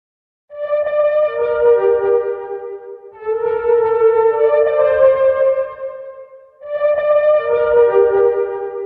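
An unprocessed string section in a beat plays sustained, slowly shifting chords in three long swells, with a soft low rumble underneath and short pauses between phrases.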